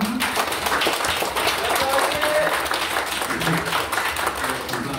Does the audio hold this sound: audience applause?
yes